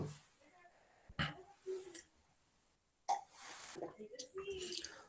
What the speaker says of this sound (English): I'm troubling with the cough.